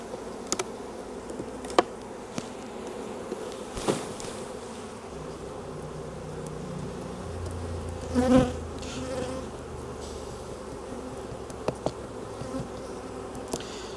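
Honey bees buzz continuously around an open hive where honey cappings have been broken for them, a dense steady hum with individual bees droning past close by, plus a few faint clicks and knocks.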